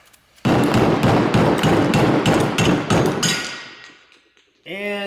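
Metal extension hammered against a Polaris Turbo S suspension bushing in a garage, a rapid burst of loud, sharp, ringing blows for about three seconds, then fading to a ringing tail before a brief clang.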